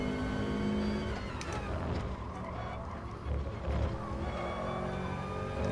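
Race car engine in the video game GT Sport, a steady droning whine with rising and falling revs, loud and continuous throughout.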